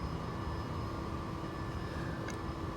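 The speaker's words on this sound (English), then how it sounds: "We've got a helicopter." A helicopter engine drones in flight, a continuous steady hum and rumble that holds at an even level throughout.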